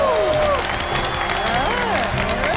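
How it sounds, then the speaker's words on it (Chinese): Audience applause and cheering at an annual award ceremony on a televised job-seeking show, loud crowd clapping with whooping voices and sliding music tones over it. "掌声送给库尔特。"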